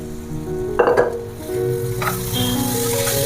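Beef and well-browned onions roasting in a pan for a traditional Kerala-style beef roast, giving a steady close sizzle with a brief burst of spatula-and-pan clatter near the start, then a continuous frying hiss.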